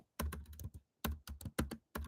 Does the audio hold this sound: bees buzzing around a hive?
no